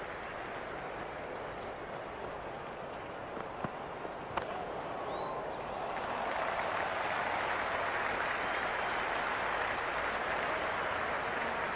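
Crowd noise from the cricket video game Cricket 26: a broad, steady roar of spectators that swells louder about halfway through and holds, with a few faint sharp clicks scattered over it.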